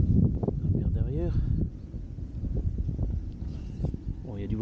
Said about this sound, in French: Bon il y a du vent, comme d'hab.